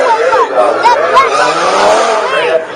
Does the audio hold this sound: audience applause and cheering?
no